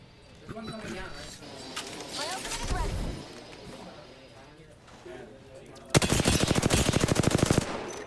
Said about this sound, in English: Good shots from Springfield Holland A onto that Goshen B team.